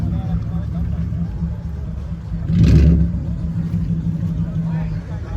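A straight-piped Hyundai Genesis at a Thursday car meet in Central Florida gives one loud, brief rev that swells and falls over steady low engine rumble from the surrounding meet.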